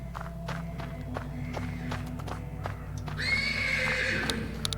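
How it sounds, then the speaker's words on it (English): A horse neighs in a stable in the video game Black Book: a long, loud whinny rises over steady hoof clip-clops and a low background hum. "persistent neighing of a horse can be heard from the stables"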